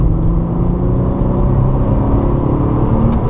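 A Porsche 997 Targa 4S on a race circuit, engine droning loud and steady from inside the cabin with a low rumbling tone under acceleration, no voices.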